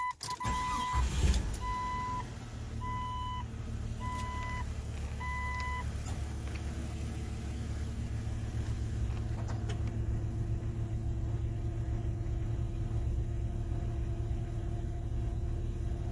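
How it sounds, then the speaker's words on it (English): A Jeep Cherokee XJ engine idles with a low, uneven rough rumble after starting, almost stalling, while a few electronic chime beeps sound early on. "It's got a rough idle, almost wants to stall out at times."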